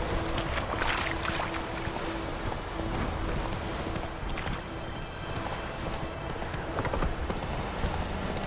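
A horse in The Witcher 3: Wild Hunt pounds along in a steady rhythmic clip-clop of hooves at moderate volume, with faint game ambience and no talk over it.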